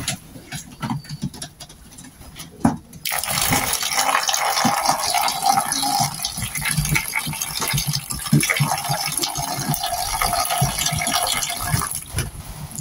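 Water poured from a container into a pigeons' bath, starting with a few scattered knocks and splashes, then a steady close gushing and pattering stream for most of the stretch before it cuts off near the end.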